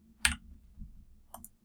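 A computer mouse clicks twice while editing pop-up content in the Divi Builder, one sharp click followed about a second later by a softer one, close up with no talking.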